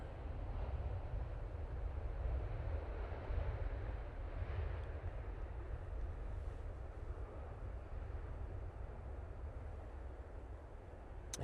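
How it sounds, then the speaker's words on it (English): A Ryanair Boeing 737-800 arriving at Manchester Airport gives off a steady, distant jet roar with a deep low rumble that holds throughout, with no talking. "Ryanair now arriving on their 737-800."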